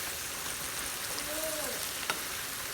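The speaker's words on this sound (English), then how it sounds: "So I'll let them saute" Mushrooms sautéing in salted butter in a pan, a quiet steady sizzle running evenly throughout with a single faint clink near the end.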